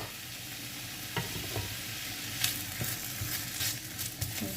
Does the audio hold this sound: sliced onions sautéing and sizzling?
yes